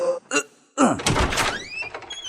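A door in a house opens with a solid thunk and rattle, followed by a brief sliding scrape and some clatter, heard up close with a short voice before it.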